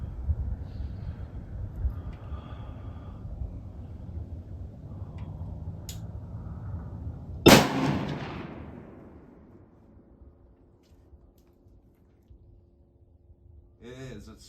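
A single sharp rifle shot from a Bergara B-14 Wilderness Sierra outdoors, loud and close with a short rolling echo fading afterward, preceded by low wind and handling noise.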